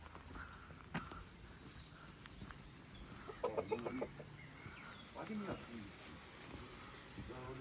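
A chicken clucks outdoors at a former chicken spot while laying an egg, giving a few scattered mid-level clucks over steady background noise, with voices talking nearby.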